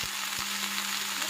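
Gongura flowers cooking in oil in a covered pan on low heat, a soft steady sizzle with a faint hum and a couple of small ticks, quiet and close.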